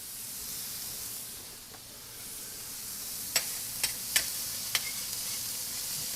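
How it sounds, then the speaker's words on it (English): Burgers sizzle on a Chantal stainless steel griddle over a GE Cafe induction range, a steady hiss with a few sharp crackles and pops near the end. "And now we're ready to grill my burgers"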